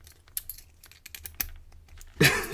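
A key scrapes and clicks against a small novelty padlock in a series of sharp, close metallic taps, ending in a louder rattling jangle.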